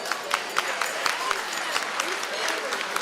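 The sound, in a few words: audience clapping at gala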